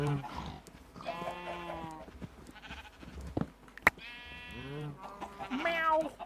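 Sheep in the Minecraft video game bleat several times in a row, clear wavering cries with short gaps and one sharp click between them.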